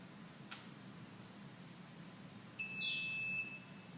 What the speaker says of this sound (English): 3 confirmation green beeps,